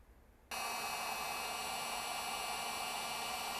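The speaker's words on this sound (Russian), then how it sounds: "Сейчас беру фен. Вот такой у меня фен." Hair dryer heating grease on a gear shift lever, switching on abruptly after a quiet moment and then blowing with a steady, loud, continuous whoosh and whine.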